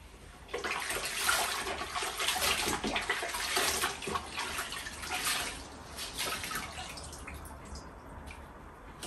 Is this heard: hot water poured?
yes